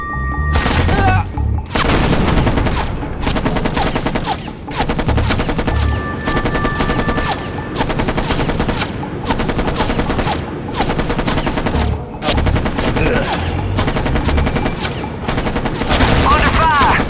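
Sustained machine-gun fire rattles in Act of War: Direct Action, loud bursts of rapid automatic shots with booming hits, repeating over background music.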